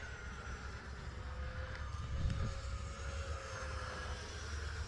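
An FMS Viper 70mm RC jet at full speed gives a steady, moderately distant ducted-fan whine with a faint rising whistle, holding constant through the pass without any talk.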